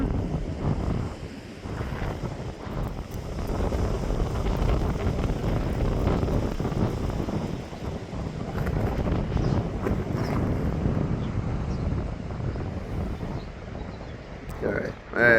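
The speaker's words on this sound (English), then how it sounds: "We're gonna get one more big, huge gust." Strong wind gusts of 50-60 mph batter the microphone outdoors during a stormy outflow, a loud sustained roaring rumble that swells and eases in waves for the whole stretch, with voices heard briefly.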